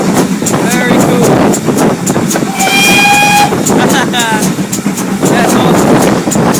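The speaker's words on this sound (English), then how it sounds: "Here's the train." A train rolls along the rails with a loud, continuous rumble and a steady clickety-clack. Brief squealing tones cut through at times, and people talk over the noise.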